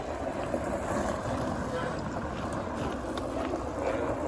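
Steady broadband roar of distant highway traffic rushing by on the Appalachian Trail in Virginia, continuous and even, with wind blowing across the microphone.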